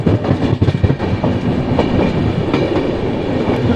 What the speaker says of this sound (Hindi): दोस्तों हम लोग निकाल रहे हैं कुप्पम स्टेशन, सोचा था स्पीड भी निकालेंगे लेकिन स्लो चल रही है थोड़ा